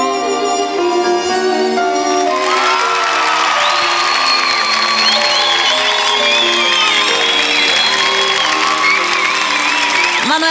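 Studio audience at a film premiere on a Brazilian TV show cheers, whoops and applauds loudly throughout, with shouting voices and a dense crowd roar over background music.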